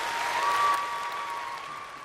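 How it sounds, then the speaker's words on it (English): Audience applause rolls steadily and fairly loud, with a sustained electronic tone or feedback hum running underneath the clapping. "That's the most applause I've gotten in quite some time."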